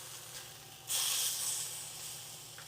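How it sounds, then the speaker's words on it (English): A Denver steak sears on a hot surface, a loud hiss and sizzle flaring up suddenly and then easing to a steady, quieter fry. "Get the ends seared, get a little bit of a caramelization on there."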